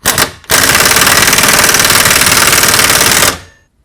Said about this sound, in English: Tighten these bolts back up.